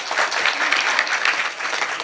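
Brisk, dense audience clapping during a comic kirtan performance in Pune, steady and near for a couple of seconds with no voices over it.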